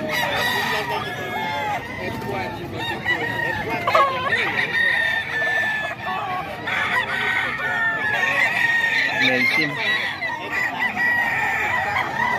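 Several roosters crow repeatedly and loudly, overlapping one another amid clucking hens, with people talking in the background at a chicken market in Bocaue.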